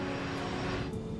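Airbus A310 airliner of the Romanian state airline Tarom, its jet engines spooling up to takeoff thrust in a loud, sustained roar with a faint high whine over it.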